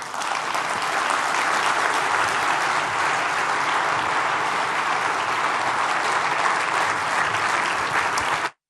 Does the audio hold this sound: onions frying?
no